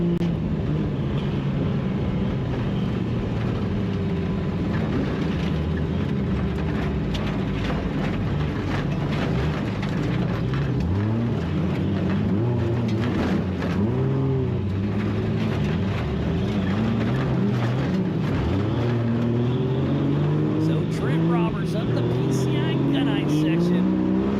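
Ultra 4 off-road race vehicles competing on a course at Prairie City, with engines droning and revving in rising and falling waves as trucks pass, continuous under a commentator's voice.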